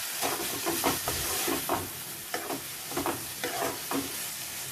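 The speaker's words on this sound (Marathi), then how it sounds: "त्यानंतर मी मसाला घालते। तो छान असा परतून घ्यायचा आपण।" Masala for a usal of val, pavta or double beans sizzles and fries in a hot pan, stirred with a spoon that scrapes and taps in irregular bursts over a constant hiss.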